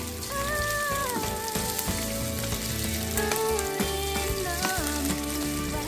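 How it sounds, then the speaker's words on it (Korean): Steady crackling sizzle of eel cooking on a grill, dense and continuous, with faint tonal music running underneath. "지글지글 굽히는 소리에 침이 고이네요"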